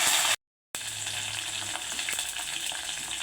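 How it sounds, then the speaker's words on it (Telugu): Crushed garlic and curry leaves sizzle loudly in hot oil with mustard seeds, a steady close crackle that breaks off briefly near the start, then resumes with light stirring clicks. "మనం ముందుగా కచ్చ కచ్చ దంచి పెట్టుకున్న వెల్లుల్లి ఇందులో వేసుకోవాలి రెండు మూడు కరివేపాకు పెట్టాలి"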